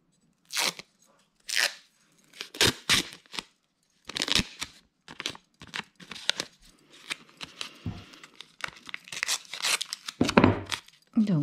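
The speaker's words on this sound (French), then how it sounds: "je vais aller chercher mon rouleau de scotch" A roll of adhesive tape is pulled and torn in a series of sharp, close rips and crackles, in short bursts with brief pauses between them, with no talk.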